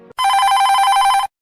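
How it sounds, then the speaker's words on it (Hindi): A mobile phone rings with a steady, bright electronic tone, sounding loud and close for about a second with no talk over it. "तभी नीलिमा के मोबाइल पर फोन आता है।"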